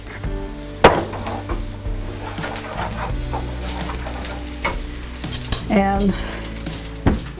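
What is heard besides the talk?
onion frying in a pan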